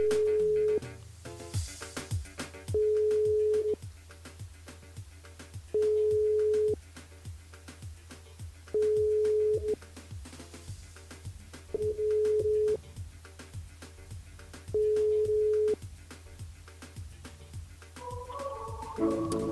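A telephone call rings out over the line in repeated long tones with regular pauses between them, before the call reaches voicemail, heard alone with music-like tones underneath.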